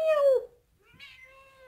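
A cat lets out two meows close by, the first loud and falling, the second softer and higher after a short pause.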